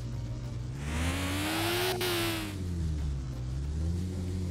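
A car engine with nitro injection in Game Store Simulator revs up loudly with a rising whine, peaks, then eases back down to a steady drone, close and alone.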